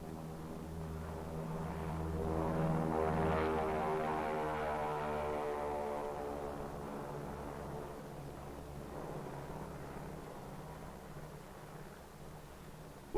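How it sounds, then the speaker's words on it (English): A B-29 bomber named Dave's Dream drones in flight, a sustained multi-engine propeller roar that swells around the middle and then slowly eases while staying continuous. "the B-29 Dave's Dream, bomb-carrying aircraft"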